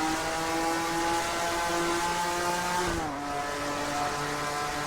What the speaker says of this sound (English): The sound of this car is great.